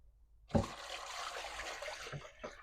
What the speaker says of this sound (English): I'm just going to pour a little bit in with my SCOBY that I can put back in here.